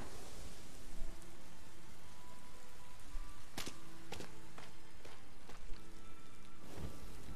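Steady rain falls in the video game Sky: Children of the Light, a dense, even hiss throughout with a few brief, sharper drops or knocks standing out near the middle and end.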